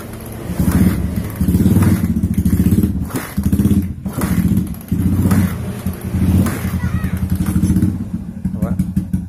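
A Suzuki Thunder motorcycle engine, with a newly fitted camshaft and the fuel tank removed, is test-started and revved in repeated loud, close bursts with short gaps between them, while voices talk over it.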